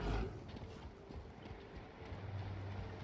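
Hooves of a horse mount in the Elder Scrolls Online video game clip-clop in a steady, fairly quiet rhythm over a low background hum, with no talking.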